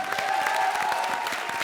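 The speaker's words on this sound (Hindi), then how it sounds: "आज तालियां सिर्फ विकल्प के लिए बजेंगी।" Studio audience applause at a comedy show, a steady burst of clapping from a crowd that carries on throughout.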